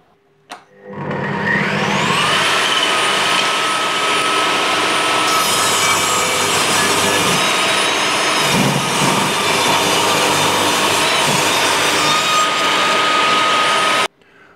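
A Bosch GTS 10 XC table saw rips a wooden joist just under 8 cm thick along the parallel fence, a loud steady whining cut that holds for about thirteen seconds before stopping abruptly.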